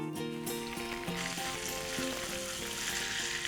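Oil and butter sizzling in a pan as paneer butter masala gets started: a close, even crackle and hiss that holds steady throughout, with scattered spatula scrapes and no talking.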